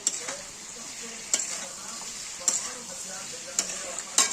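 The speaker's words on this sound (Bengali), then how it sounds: "আমরা মশলাটা ঠিক গুলে এখানে দিয়ে ভালো করে নাড়িয়ে আবার চাপা দিয়ে দেবো" A pan of pumpkin and potato curry with spices being stirred, a soft sizzle underneath and a few sharp scrapes of a spoon against the pan spaced about a second apart, close and fairly quiet.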